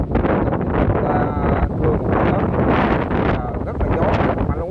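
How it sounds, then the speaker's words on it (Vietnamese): Strong gusts shake a longan tree on temple grounds in Vung Tau, Vietnam, heard as heavy, buffeting wind noise pounding the microphone in repeated surges, with a person talking underneath. "trời ơi gió quá trời gió luôn quý vị ơi, lắc rất là lắc luôn"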